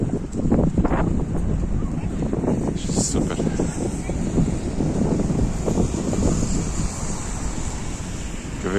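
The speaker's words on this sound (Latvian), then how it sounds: "Vējš pūš, saule spīd," Wind blows steadily across the microphone on a sunny spring day in Liepāja, a continuous rough, rumbling rush that stays loud and close throughout with no pauses.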